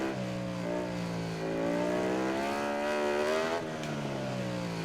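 Ducati motorcycle engine on a lap in MotoGP 19, a steady, high-pitched whine that rises and falls gently with throttle, holding close and continuous throughout with no voices.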